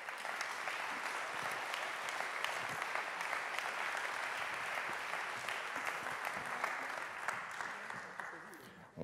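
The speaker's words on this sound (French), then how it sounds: "On fait des applaudissements chaleureux dans les tiers-lieux" Warm, steady applause fills a round-table hall as panelists join the stage, a dense continuous clapping from a sizable audience that holds for several seconds before tapering at the end.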